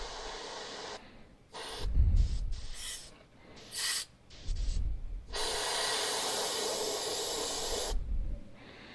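An airbrush hisses in several steady bursts at close range as a paint coat goes onto a crankbait fishing lure, the spray starting and stopping between short pauses.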